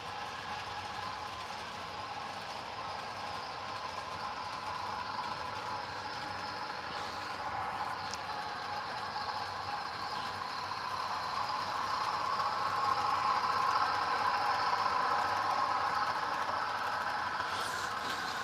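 A GP9 model diesel locomotive pulls about six cars along a layout that is not flat. Its steady electric motor hum and wheel drone continue without a break and grow a little louder toward the end.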